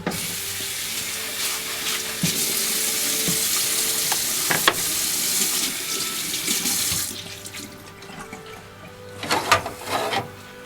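Dishes are washed under a running kitchen tap while garlic cooks nearby: a loud, steady stream of water that stops partway, followed by a few close clatters and knocks.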